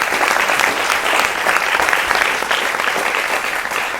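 Loud, close applause from a studio audience welcoming a guest, Major General Bishambar Dayal, on a television defence discussion show, dense and continuous throughout.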